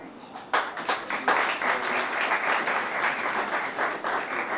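A congregation at a special church service breaks into applause that swells quickly and stays steady, with a few distinct claps standing out and faint voices beneath.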